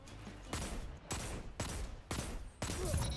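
Rapid gunfire from a Destiny player-versus-player match comes in five sharp, loud bursts at roughly even half-second intervals, each a dense crackling volley, with no talk over it.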